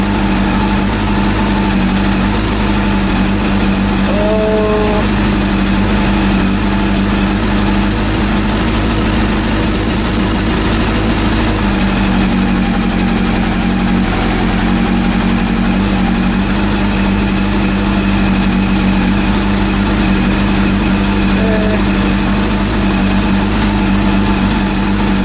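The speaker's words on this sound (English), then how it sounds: "Idling sound. Engine sound is great." A rebuilt Honda CB400 engine idles steadily for a long stretch, a close, even mechanical hum with a constant low throb and faint vibration, with no talk over it.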